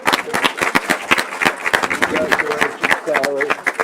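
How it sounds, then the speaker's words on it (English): A school board meeting audience applauds a board member who is a science teacher, a dense, steady patter of many hands clapping for several seconds, with voices carrying over it. "Let's give Bob a round of applause."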